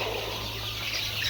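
Black Australorp and native village chickens cluck softly nearby over a constant low hum, a brief burst of farmyard poultry sound with no talking.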